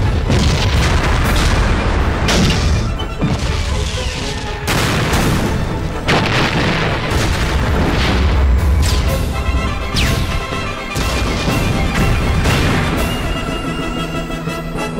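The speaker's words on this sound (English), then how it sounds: "Lots of explosions." Cartoon explosions in a My Little Pony–style animated short crash and boom one after another, loud and dense across the whole stretch with no pause.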